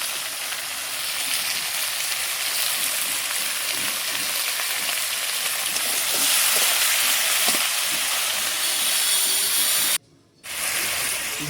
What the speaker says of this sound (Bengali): ভালো করে লাল লাল করে ভেজে নিব হলুদ নুন দিয়ে।